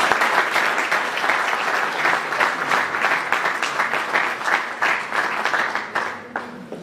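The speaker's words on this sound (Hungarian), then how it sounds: "Tapsoljuk meg a támogatókat." A hall audience at an anniversary gala applauds the sponsors with loud, sustained clapping that stays steady for several seconds and then thins out at the end.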